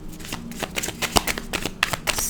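Tarot cards are shuffled by hand in a quick run of crisp riffling flicks and soft slaps, close and fairly quiet, with no talking over them.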